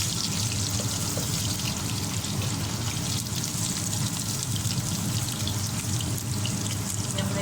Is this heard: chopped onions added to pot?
yes